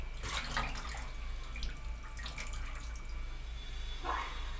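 Water trickles and splashes faintly, with a few small drips and sloshes, quiet and close.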